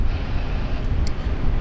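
An airliner takes off from Sydney Airport bound for Los Angeles, a low, steady jet rumble heard from a distance for a brief moment.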